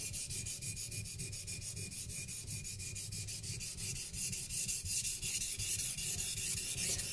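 Fillet knife blade being sharpened on a whetstone, with a steady, rhythmic scraping of rapid back-and-forth strokes, close and fairly quiet, with no talking.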